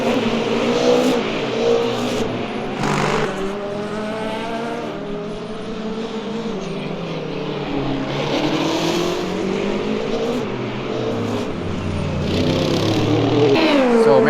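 A Porsche race car engine at Le Mans, the number 5 Penske Porsche, roars continuously in a simulated 24-hour race, with pitch rising and falling through gear changes and other cars passing, steady and loud throughout.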